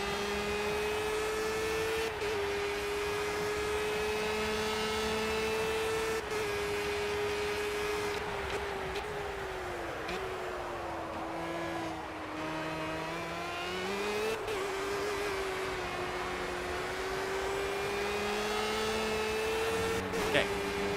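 A race car engine in the video game Project Cars holds a sustained, loud hum that rises and falls gently in pitch under careful throttle. Its tone stays continuous throughout, with brief low gear-like shifts along the way.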